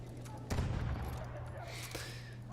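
Battlefield 1 gunfire cracks once sharply, then rattles briefly in a quick burst, with a second fainter shot later, over a low steady hum and some faint voice.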